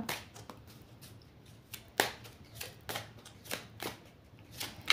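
Oracle cards shuffled by hand for a seven-card divination draw, a series of quick papery riffles and flicks at irregular intervals, close and fairly quiet.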